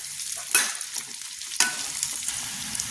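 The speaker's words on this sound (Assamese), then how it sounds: "এতিয়া মই ধুনীয়াকৈ হেতাখনে লৰাই দিছোঁ যাতে তেলখিনি গোটেই আচাৰখিনিতে লাগি যায়" Sweet olive pickle in oil stirred with a spatula, giving two distinct scraping sweeps over a soft sizzle, close and alone.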